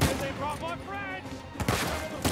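Gunfire in the action game Uncharted 4, with several sharp shots crackling through a dense mix of game sounds while a person talks over them.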